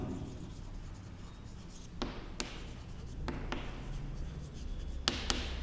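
A pen scratches steadily across paper during a class 12 maths lesson, with a few sharper taps as strokes land, quiet and close over a low background hum.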